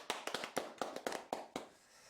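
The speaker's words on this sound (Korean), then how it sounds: "수고하셨습니다. 우리 박수." A small group claps after a Korean Bible lecture, giving a short burst of scattered, fairly faint hand claps that trail off within two seconds.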